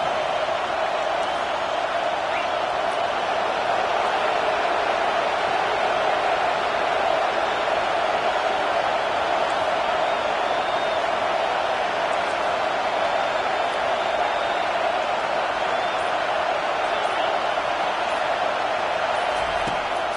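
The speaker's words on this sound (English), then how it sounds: "This crowd going to try to make life miserable for these guys." Stadium crowd noise from the video game College Football 25, a steady, loud roar of a big crowd that holds for twenty seconds with no break.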